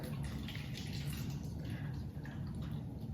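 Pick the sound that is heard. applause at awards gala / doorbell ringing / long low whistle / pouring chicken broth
pouring chicken broth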